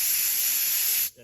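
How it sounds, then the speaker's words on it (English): Compressed air from a handheld nozzle blasts through a Briggs and Stratton lawn mower carburetor during cleaning, a loud steady hiss lasting about a second before stopping abruptly. "take my air nozzle here, point it away from your face, blow a little bit of air through there"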